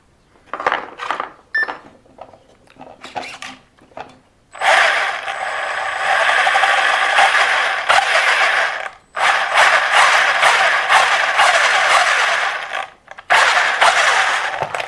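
Mechanical whirring and rattling of small gears in a WLToys 104001 RC car's sealed differential spinning up in short bursts, then running continuously with a buzzing, ratcheting texture, close by.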